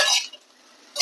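Grated coconut is stirred in a pan with two short scraping, rustling strokes, one at the start and one at the end, separated by near silence; close and clear, with no voices.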